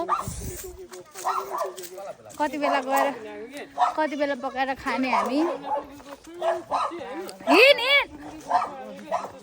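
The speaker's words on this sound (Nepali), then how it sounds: "कुकुर कराउँदै छ" Dogs bark and yip intermittently along a trail, short sharp calls scattered among people chatting close by.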